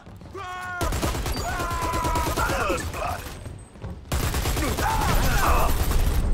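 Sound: gunfire in the video game Dirty Bomb (Skyhammer)

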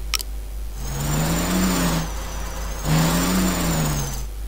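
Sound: toy car engine revving in a kids' video game

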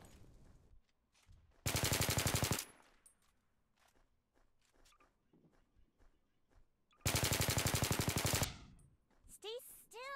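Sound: gunfire in a video game

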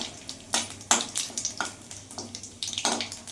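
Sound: cumin, bay leaf and dried chili frying in hot oil

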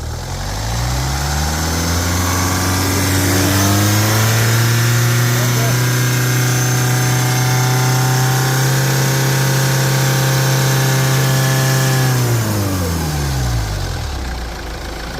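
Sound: car engine running and revved

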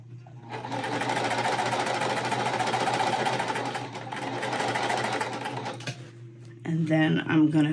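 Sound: sewing machine sewing half square triangles together

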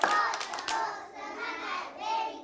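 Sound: clapping hands in a preschool lesson

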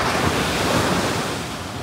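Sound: ocean waves crashing on Madhavpur beach

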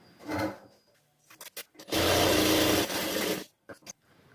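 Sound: sewing machine stitching the edge of a neck piece

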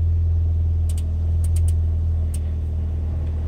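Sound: Ford Fiesta ST engine idling with AC on max

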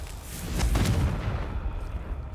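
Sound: Confringo fire-blast spell cast in video game Hogwarts Legacy

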